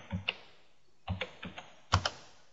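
Computer keyboard keys struck in short separate bursts of two or three close clicks with pauses between, as a number is entered on a PC running TeamViewer.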